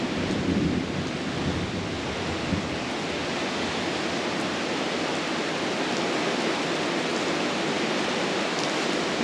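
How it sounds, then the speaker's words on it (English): Thunder rolling through a heavy storm at a house construction site with aerated concrete walls, a continuous loud roar mixed with steady rain and wind that swells briefly near the start. "That is that's definitely thunder."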